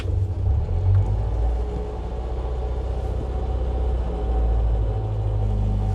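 A Mazda 1000 car engine runs steadily with a low, close rumble, pulling away and driving with even engine drone and no talk.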